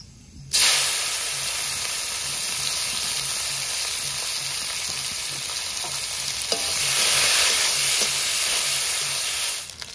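Onions frying in a pan at the start of a steamed egg and aubergine curry, giving a steady, close sizzle and hiss that holds evenly throughout with no talking.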